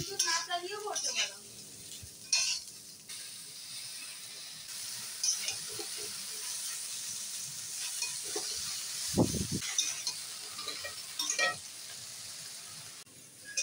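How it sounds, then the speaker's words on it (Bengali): Vegetable stems fry in a pan in a close, soft sizzle, joined by occasional utensil scrapes and clinks and one brief louder knock, with a voice speaking in places. "ডাঁটাগুলো ভেজে নিতে হবে।"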